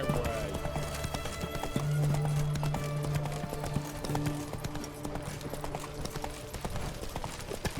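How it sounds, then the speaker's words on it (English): Horse hooves trot in The Witcher 3, a continuous clip-clop over several seconds, with brief voices and game sounds mixed in. "Whoa there, Roach. Halt!"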